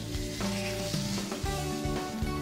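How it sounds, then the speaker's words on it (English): Blackened fish sizzles loudly in a hot oiled skillet, a close, steady crackling hiss with small pops and shifts as it settles. "It should sizzle as soon as you put it in."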